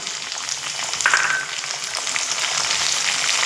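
Cashews and raisins fry with onions in a pan, a steady broadband sizzle running close and even throughout, with faint stirring in the background and no talking.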